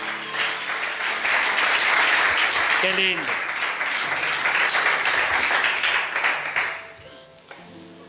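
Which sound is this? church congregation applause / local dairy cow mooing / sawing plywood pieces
church congregation applause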